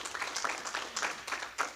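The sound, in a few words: round of applause from convention audience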